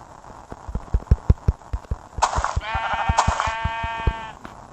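Two short Minecraft sheep bleats, slightly synthetic-sounding, over a steady series of rhythmic thuds and clicks.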